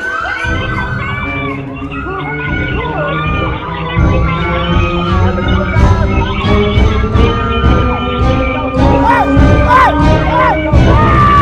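A loud studio crowd on a Filipino television game show shouts, cheers and whoops continuously around the spin-a-wheel game, with overlapping excited voices and children's yells building in intensity throughout.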